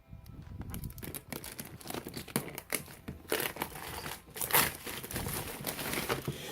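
Plastic packaging being torn open around a Zhiyun Smooth Q camera gimbal, heard as close crinkling and ripping bursts that come in irregular waves for several seconds, with no voices.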